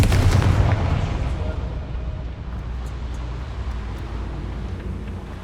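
The Confringo blast spell in Hogwarts Legacy goes off as a heavy, booming explosion that hits hard at once and then fades into a long, rumbling decay.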